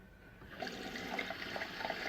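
Cold tap water runs steadily into a bathroom sink before shaving, a continuous trickling splash that swells slightly after the first half second, heard close and alone.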